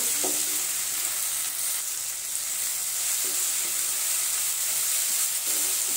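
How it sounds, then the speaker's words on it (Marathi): Cashews sautéing with onion and tomato in a pan, a steady loud sizzle and hiss throughout with a few soft stirring scrapes and no talk. "त्यामध्ये आपण 10-12 काजूही परतून घेऊ"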